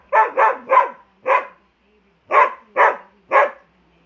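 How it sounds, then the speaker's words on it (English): A dog barks in seven sharp, close barks, a quick run of three, a single bark, then three more after a short pause, with nothing else around them. "He's a good dog."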